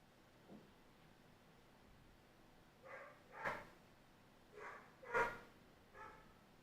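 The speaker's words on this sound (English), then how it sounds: "It's Tommy outside, losing her mind. She's been very barking today" Dog barking outdoors, fairly distant, in several separate bouts with two louder barks near the middle and end, after a quiet stretch with one faint yip.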